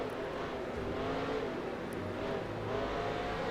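A NASCAR Next Gen stock car engine in NASCAR Racing 2003 at Road America drones and revs steadily under throttle, with a dense, continuous mid-pitched roar and no speech over it.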